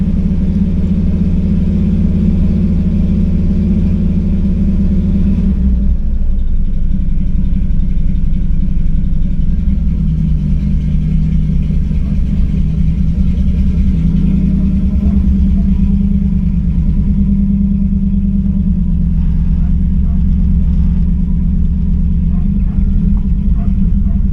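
Plymouth Valiant A-body with an electric choke, not driven for two weeks, idles steadily while warming up, a loud low rumble with a small shift in tone after a few seconds and no talking over it.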